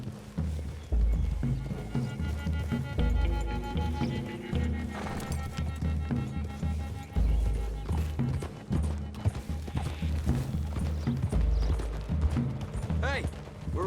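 Horses gallop in Red Dead Redemption 2, with hooves clip-clopping rhythmically through woods and an occasional whinny, under game music and the voices of riders talking.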